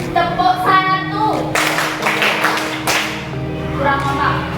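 Group of people in a classroom setting doing a rhythmic clapping pattern, a few sharp bursts of claps in quick succession between stretches of background music, fairly close and loud.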